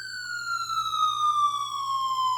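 A 1979 Game Plan Coney Island pinball machine plays an electronic siren effect, a steady, clear tone that slowly glides downward in pitch, close and continuous over faint background hum.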